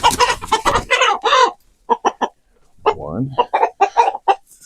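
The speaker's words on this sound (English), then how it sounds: "now let's see if I can catch these roosters" Roosters cluck and squawk as they are caught in a farm coop, short agitated bursts, one rising squawk near the middle, close and fairly loud, with a voice counting briefly over them.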